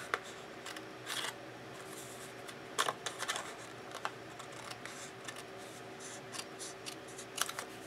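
Scissors snipping through paper in a craft project, a series of quiet, close, crisp cuts spaced irregularly with light paper rustling between them.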